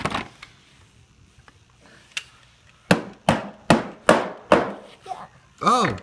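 Hammer blows on a repair job, a few scattered knocks and then a run of six loud, evenly spaced strikes close by, with a short voice at the end.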